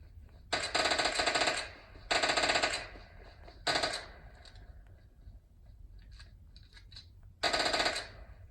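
Gunfire from PUBG Mobile played on a Samsung Galaxy Tab S5e comes in four rapid automatic bursts, each roughly half a second to a second long, separated by quieter stretches of faint game ambience, all at a low volume.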